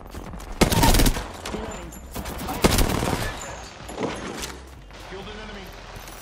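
Gunfire in an Apex Legends match, loud rapid bursts at the start and again midway with scattered impact thumps, mixed with game effects while players talk over it.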